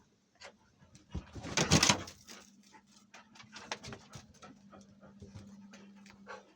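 Pet dog Dina begging for food and chewing a rusk, with panting, soft whimpers and crunchy bites close by, plus a few faint bird chirps in the background.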